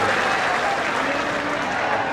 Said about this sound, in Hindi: तालियों के गड़गड़ाहट से स्वागत करते हैं